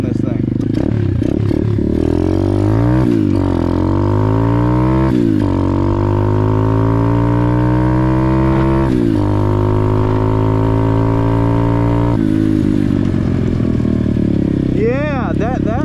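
Amazon pit bike with an upgraded carburetor revving hard while being ridden, its small engine's pitch rising and falling through repeated throttle blips, loud and close, with a brief pause near the end.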